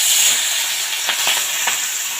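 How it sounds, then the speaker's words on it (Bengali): Fish sizzles in hot oil in a home kitchen pan, a loud steady frying hiss with a few sharper crackles and pops through the short span. "এরপর তেল দিয়ে দেব, এরপর ভেজে নেব।"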